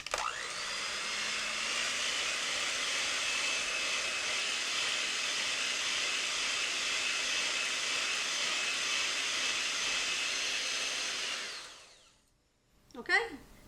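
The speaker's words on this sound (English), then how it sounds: "I'm going to add 2 tablespoons of powdered sugar and finish whisking this together." An electric mixer whisks cream with powdered sugar, a steady loud whirring drone that holds evenly for about eleven seconds before cutting off, followed by a brief clunk.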